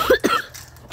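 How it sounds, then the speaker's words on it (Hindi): Two quick, close coughs from a man in a casual Hindi-speaking setting, the second following a brief pause, with quiet room tone afterward. "खांसी हो गई है भाई साहब।"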